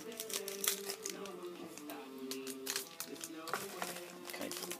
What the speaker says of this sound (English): I'll open a few packs right now with the scissors, so it just saves me a little bit of time.